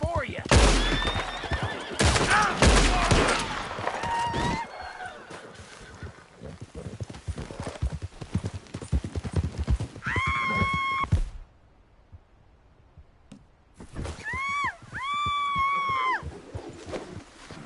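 A horse whinnies loudly several times among rapid clip-clopping hooves and scuffling, with shouting voices over the commotion, followed by a quiet gap and another close, loud whinny.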